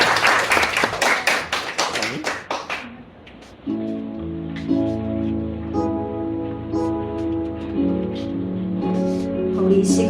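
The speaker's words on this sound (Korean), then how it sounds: "우리 주님께 영광의 박수 올려드립시다." A church congregation claps loudly together during worship for about three seconds. The applause then gives way to sustained keyboard or organ chords that play on alone.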